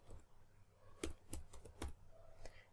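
Typing an email address on a computer keyboard in an app-building tutorial: a short run of separate, distinct key clicks, quiet and close, with low room noise in between.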